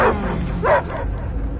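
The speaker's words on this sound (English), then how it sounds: "I hear only barking." Dogs bark in the Guardians of the Galaxy video game: two or three sharp, close barks with short gaps between them, over a low background rumble.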